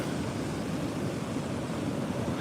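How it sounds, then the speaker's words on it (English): Storm surf from Hurricane Erin churns at a coastal inlet near Bethany Beach, a steady, broad roar of breaking waves and wind noise that holds at an even level throughout, with no voices. "Even since I started the video, the waves have definitely built"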